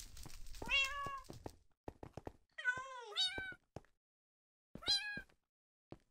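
Cat meowing in Minecraft, a handful of separate harmonic meows in short bursts with silent gaps between them, clear and close with no talk over them.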